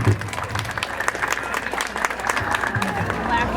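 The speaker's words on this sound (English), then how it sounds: "let's give Riggs a round of applause" A crowd gives a round of applause at a police dog demonstration, loud, dense clapping mixed with crowd murmur that holds steady for a few seconds.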